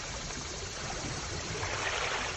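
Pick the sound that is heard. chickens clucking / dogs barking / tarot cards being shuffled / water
water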